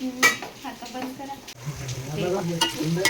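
Onion and tomato sauté in a pan for veg biryani, with a steady sizzle, a spoon stirring and scraping the pan, and sharp clinks of metal. The cooking sounds sit close and fairly loud, and a voice talks in the background.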